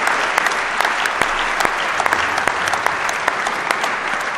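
An audience at a corporate motivational talk breaks into sustained loud clapping, a thick even wash of hands with individual sharp claps standing out, no voices on top.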